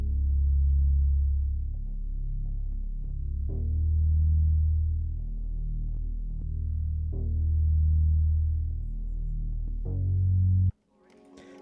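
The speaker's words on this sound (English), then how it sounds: "And then the next thing I added was a bass from the one shot kit. It's called Bass Wide Body" Bass Wide Body one-shot bass sounds from a one-shot kit in an ambient beat, sustained deep notes that shift with the root notes in slow swells, playing alone before cutting off abruptly near the end.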